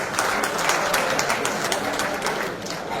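Loud applause from an audience at a blood donor honoring ceremony, steady dense clapping sustained throughout without speech.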